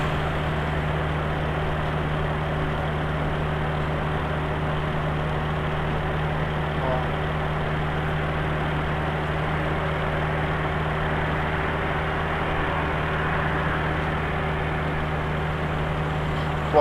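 Steady car engine held at about 2,200 RPM under electronic injection (Elba Street setup), a continuous even hum with stable low tones, close and constant throughout with no talk.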